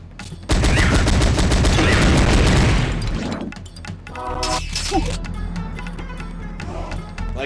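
A big gun in Powerslave (Exhumed) on the Sega Saturn fires a loud, rapid burst of booming shots for a few seconds, then gives way to clattering impacts and scattered game effects.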